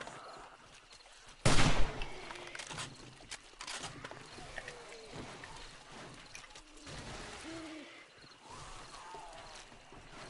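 Gunfire rings out in 7 Days to Die as a player shoots at their own spike traps during a zombie horde. There is one loud sharp crack, then fainter scattered thumps and clatter under ambient game noise.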